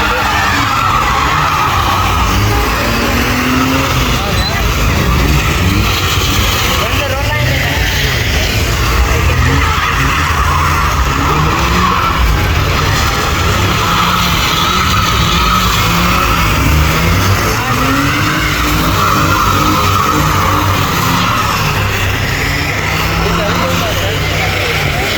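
Car drifting at a car meet in Hyderabad, Sindh, among modified cars with loud exhausts: a continuous engine roar and tire skid noise lasting throughout, with crowd voices mixed in.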